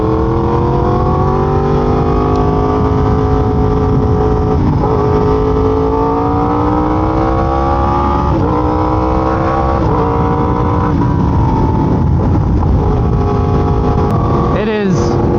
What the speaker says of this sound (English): I'm riding the R1M again.